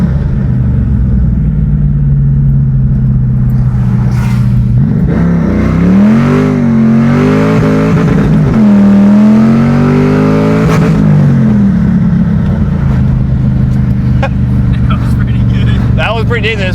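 A Ford Mustang New Edge car fitted with 4.56 rear gears accelerates hard with its tires spinning, the engine revving loud and close in rising sweeps over a steady rumble, with someone talking throughout.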